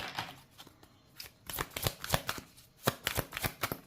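Oracle cards are shuffled and cut for a reading, giving a series of soft, close riffling bursts and flicks in irregular clusters, fairly quiet, with no talking.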